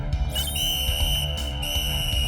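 A sustained high-pitched whistle tone holds steady over a busy, noisy background with low rumbling, lasting a couple of seconds.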